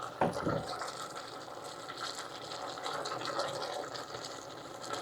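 Water runs from a tap to rinse out a kitchen container, a soft continuous splashing flow with a brief clunk near the start, fairly quiet and close.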